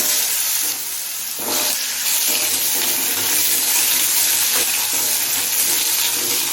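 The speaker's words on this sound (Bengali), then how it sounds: "এবার আলুগুলো দিয়ে দেবো" Potatoes frying in hot oil after cumin seeds, a loud dense hiss that runs the whole time, dips briefly and swells again as the pieces settle, with no voices.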